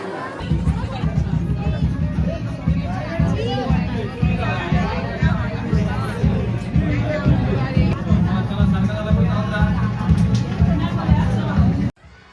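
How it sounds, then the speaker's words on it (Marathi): A dense crowd of people at Ekvira temple fills the space with constant loud babble and overlapping voices. Nearby talkers stand out against the hubbub until it cuts off abruptly at the end. "इथं एवढी गर्दी"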